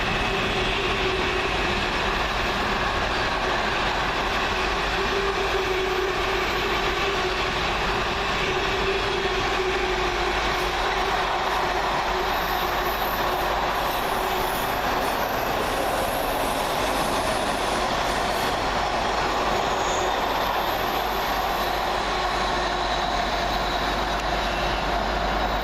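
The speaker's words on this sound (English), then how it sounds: "a 4th freight train as 66431 for direct rail services works a freight train from Daventry DRS to Ripple Lane" A Direct Rail Services Class 66 locomotive hauling a freight train from Daventry to Ripple Lane rumbles steadily through Milton Keynes Central station, a long, continuous roar of wheels and wagons with faint squeals and clatter.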